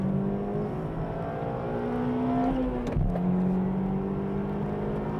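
A 1998 Nissan Skyline R34 GTT engine pulls steadily in sixth gear on a race track, a loud continuous drone rising in pitch before briefly dipping around a shift-like break, then holding strong again, with no talk.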